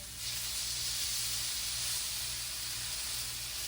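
Steady, loud sizzling hiss of steak frying in a hot skillet, a continuous crackling sputter with no voices.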